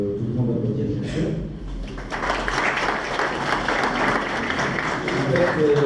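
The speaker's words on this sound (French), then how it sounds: "à mon grand ami Sita, que tout le monde applaudit bien sûr" An audience at a bank-hosted conference breaks into applause to welcome a guest, building after a brief quiet start into a steady, moderately loud clapping that continues to the end.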